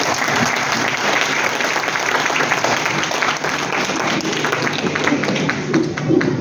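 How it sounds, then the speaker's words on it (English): A school audience at a class storytelling competition breaks into continuous applause, a dense and fairly loud patter of many hands that holds steady throughout. "A big round of applause for this wonderful."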